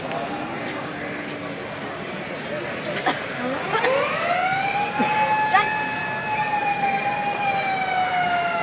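An ambulance siren wails at a janaza funeral procession in Sargodha, rising and sweeping in pitch as it draws closer and grows louder, with crowd noise and a voice beneath it.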